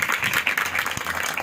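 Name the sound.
congregation applauding in church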